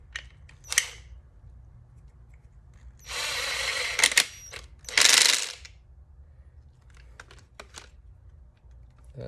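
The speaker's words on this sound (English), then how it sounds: "then just slowly tighten the nut down" A nut is tightened onto a Waterborne surf adapter bolt on a Boosted Mini skateboard, giving a few short bursts of close ratcheting and clicking separated by quiet pauses.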